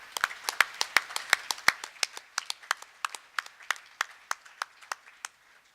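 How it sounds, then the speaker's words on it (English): Applause at a school board meeting: a small group claps for several seconds, starting dense and thinning into scattered, separate claps before fading out. "One more round of applause."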